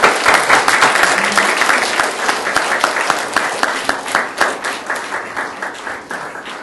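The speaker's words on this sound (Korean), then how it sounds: "박수해 주시면 감사하겠습니다." Applause from an audience at a seminary session of a national fellowship gathering, dense clapping that is steady at first, then thins into separate claps and fades over several seconds.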